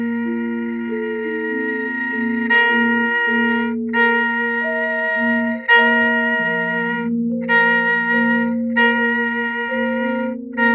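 A Javanese gamelan gong is struck once, ringing out deep and resonant under the sustained, sliding bowed melody of a rebab, close and clear with no talking.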